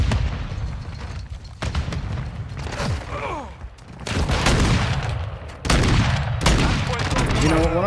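Gunfire in Call of Duty: Modern Warfare 2 from a marksman rifle, the MK2: loud, dense bursts of shots and booms that come in clustered volleys over a steady busy game background.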